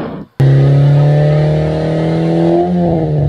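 A Toyota Vios fitted with an aftermarket muffler fires up and revs. A sudden loud exhaust roar holds a deep, steady drone before climbing slightly, close to the tailpipe.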